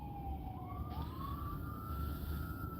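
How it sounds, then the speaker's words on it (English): An ambulance siren wails steadily in the distance, its rising and falling tone sliding upward as it passes, over a constant low rumble of road noise. "now there's an ambulance coming somewhere"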